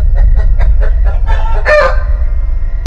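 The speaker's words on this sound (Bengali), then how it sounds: "হঠাৎ আমি শুনতে পেলাম একটা মোরগের কক ককানির আওয়াজ।" A rooster crows loudly and close by in a bamboo grove at night, preceded by a run of rhythmic clucks that build into one long, strained cock-a-doodle-doo, with no speech.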